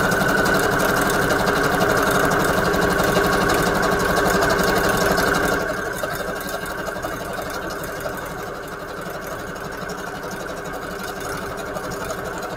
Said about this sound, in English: And I'm just going to use a regular zigzag stitch